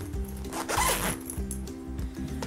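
A zipper runs shut on a handmade DIY dollhouse suitcase. The pull is close and steady with a rhythmic rasp that repeats through the whole stretch.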